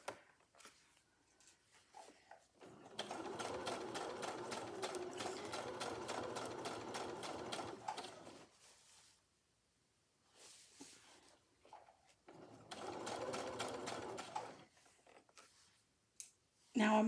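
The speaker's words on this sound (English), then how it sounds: "You're just sewing through the same amount that you did before" A sewing machine runs through the fabric layers of a large zippered project bag in two bursts of steady close stitching, separated by quiet pauses and faint handling clicks.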